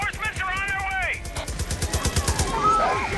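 Rapid high-caliber gunfire in Far Cry New Dawn, a loud sustained burst of repeated shots with sharp regular cracks, mixed with other game sounds and a rising-falling tone early on.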